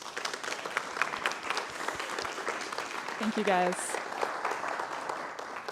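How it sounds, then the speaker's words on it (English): Round of applause from a morning audience at a data visualization talk, steady clapping throughout while a speaker briefly thanks the crowd over it. "let's give Kaylin a round of applause"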